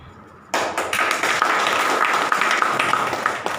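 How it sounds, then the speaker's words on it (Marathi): Audience applause at a talk by a doctor, starting abruptly after a quiet moment and continuing as dense, steady clapping from many hands at moderate loudness. "कोणतरी एक टाळी सुरू करतो, मग बाकीचे जागे होतात."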